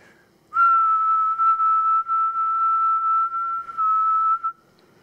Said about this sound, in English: I want you to whistle like a consistent tone